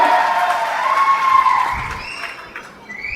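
Audience applause honouring K.A. Sengottaiyan at the 221st Aadi 18 hero-worship ceremony, a steady wash of clapping from a crowd that holds for a few seconds before thinning out.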